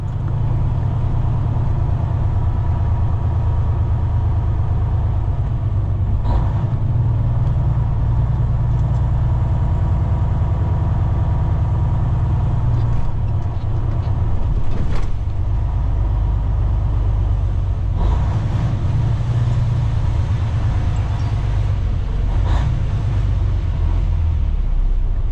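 Semi truck tractor driving on local roads, a steady loud low engine drone and road rumble throughout with a few brief knocks, no talking.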